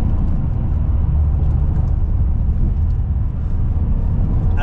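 A Mercedes-AMG E63 W212 with a twin-turbo V8 accelerates from around 3,000 rpm, giving a loud, steady, deep engine roar heard from inside the car, with no break throughout.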